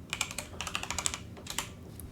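Rapid clicking of typing on a computer keyboard, a close burst of uneven keystrokes in quick clusters with brief pauses between them.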